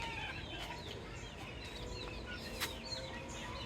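A chicken or rooster calls at a poultry farm, with short, repeated clucks and calls over steady outdoor background noise, moderately distant.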